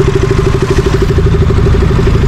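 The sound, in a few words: motorcycle engine idling while parking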